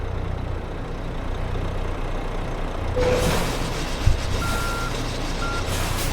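Reversing beeps from a truck hitching a cattle trailer to an old Mercedes rig in Euro Truck Simulator 2, steady tones over engine idle with a brief air-brake hiss, moderately loud and close.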